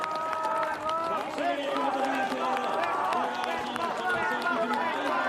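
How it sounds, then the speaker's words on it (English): A home crowd at an orienteering relay cheers and shouts continuously, many overlapping voices forming a dense, lively roar with talk running over it throughout. "you can hear all the cheers then from the home crowd here"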